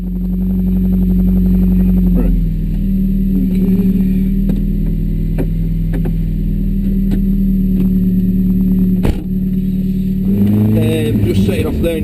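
A GTM Rossa kit car with a Honda Civic Type R 2.0 VTEC engine pulls away steadily in second gear. The engine drone is loud and close with a rising rev near the end, and someone talks over it.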